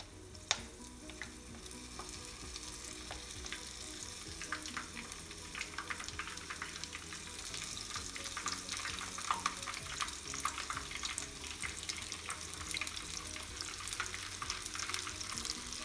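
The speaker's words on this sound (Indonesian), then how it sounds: "Kemudian goreng ke minyak yang cukup panas, api kecil ke sedang." Constant crackling sizzle of battered shrimp frying in hot oil over low-to-medium heat, with sharp pops and spatters, fairly quiet and close.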